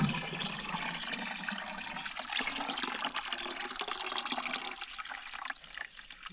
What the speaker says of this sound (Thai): น้ำที่มันออกจากท่อเนี่ยเย็นแต่ว่าน้ำในนองเนี่ยค่อนข้างอุ่นหมดแล้ว